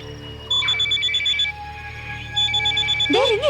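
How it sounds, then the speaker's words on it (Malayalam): A telephone rings during a call in a Malayalam action film, as two bursts of pulsed electronic ringing with a pause between them, followed at the end by a brief voice. "റിങ് കേൾക്കുന്നു."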